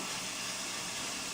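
Minced garlic sizzling in hot olive oil in a pan, a steady close hiss with no break, brief and fairly quiet.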